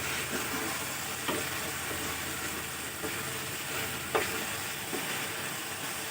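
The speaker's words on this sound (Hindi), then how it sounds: "दही को भी हमें इसमें अच्छा मिक्स करना है और फिर इसे अच्छा भुनना है।" Chicken mixed with yogurt sizzles and fries in a pan, a close, steady crackle broken by occasional scraping clicks of stirring, with no one speaking.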